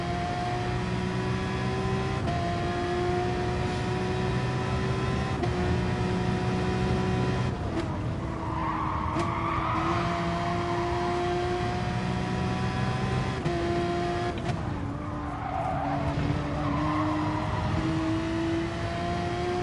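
A race car lapping Brands Hatch GP in a racing sim during endurance practice, its engine droning steadily and loudly, with pitch rising under acceleration, dropping at gear changes and lifts, and tyre scrub during a rear slide.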